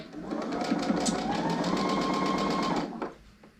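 A sewing machine stitches quilting on a diamond and tulip patterned piece after a bobbin problem is fixed, a fast, even run of needle strokes close by that stops abruptly near the end.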